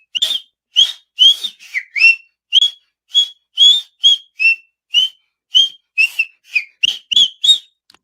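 A person whistles a bouncy tune, loud and close, in short clear repeated notes with brief gaps, alone without talk.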